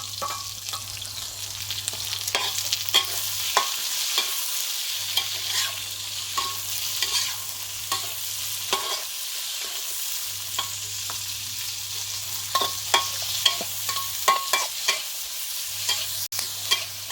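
Bamboo shoots and pork stir-fried in a pan, with steady sizzling and frying hiss throughout and repeated scrapes and clacks of a utensil stirring, alongside a low intermittent hum, no voices.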